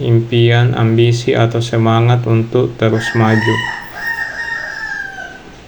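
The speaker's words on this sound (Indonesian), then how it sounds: "Ada suara ayam berkokok ya teman-teman." A rooster crows outside a house, loud crowing calls heard behind someone speaking, with a clearer drawn-out crow trailing off alone at the end.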